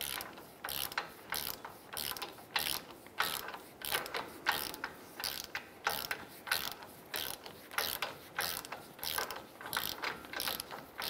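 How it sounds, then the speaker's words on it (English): A ratchet wrench tightens the outer tie rod nut on a Ram 1500 during steering knuckle replacement, giving steady repeated clicking strokes in an even rhythm, close and moderately loud, without talking. "I'm gonna go ahead and tighten our outer tie rod and nut."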